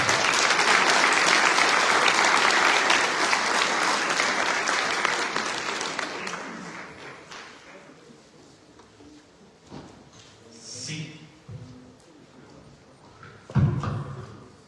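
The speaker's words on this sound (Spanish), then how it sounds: "Recibámoslo con un fuerte aplauso" A big crowd applauds a guest lecturer at a public security talk, loud steady clapping that slowly fades away, followed by a few scattered thumps and shuffling noises in a quiet hall.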